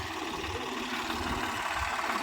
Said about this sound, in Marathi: हे ट्रॅक्टर आहे.